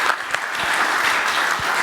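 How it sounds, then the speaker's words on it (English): Audience applause at a convention panel: sustained clapping from a seated crowd, steady and dense for the full stretch, with no talking over it. "That's worth a round of applause right there."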